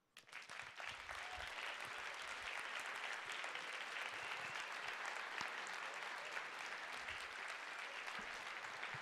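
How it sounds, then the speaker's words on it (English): Audience at a speech event, a talk on leadership, breaks into loud sustained applause that swells within the first second and holds steady, dense and full, with no voices over it. "Please give him another big round of applause"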